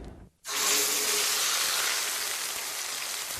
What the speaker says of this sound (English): we're going to sear them skin side down first, because you want a really beautiful golden color